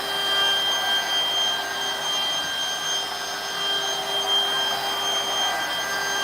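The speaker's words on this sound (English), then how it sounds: "The DeWalt, man, it is a great router." A DeWalt router carves into wood at about an eighth of an inch deep, giving off a steady high-pitched whine and rushing roar that holds evenly and loudly for several seconds without talk.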